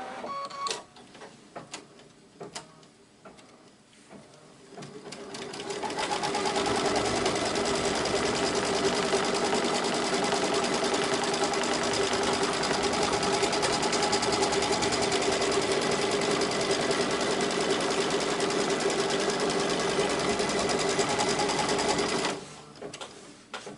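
A sewing machine stitches a circle onto quilter's batting for a vintage pincushion, starting with a few handling clicks and then running in a loud, steady, rapid whir for about seventeen seconds before stopping.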